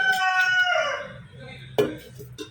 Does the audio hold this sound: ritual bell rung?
no